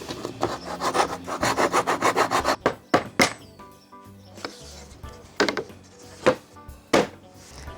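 A handsaw rasps back and forth through wood supports on a homemade foldable tablesaw, starting as a steady run of rapid close strokes, then giving way to scattered knocks and scraping as the pieces are trimmed off.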